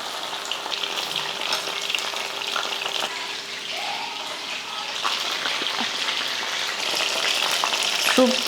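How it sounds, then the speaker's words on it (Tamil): Chicken lollipops deep-frying in hot oil in a kadai, a steady broad sizzle and bubbling that holds throughout with occasional stirring clatter, close and fairly loud with no talking. "இப்போ நம்ம பொரிச்சு எடுத்துடலாம்."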